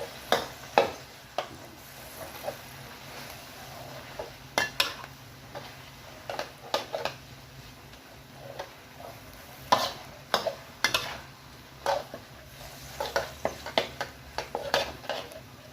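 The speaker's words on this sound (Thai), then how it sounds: "หมูสับเข้าไป แล้วก็รวนหมูให้สุกนะ" Minced pork being stir-fried in a pan, a soft sizzle underneath while a spatula scrapes and clinks against the metal in irregular bursts, close and fairly quiet with no talking.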